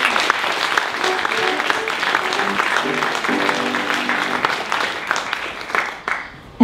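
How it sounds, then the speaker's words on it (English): Applause fills the hall at a film festival awards ceremony in The Hague, a dense, sustained wash of clapping with a few voices and brief tones underneath, tapering slightly near the end. "please give another round of applause for Jo Ingabire Moyes"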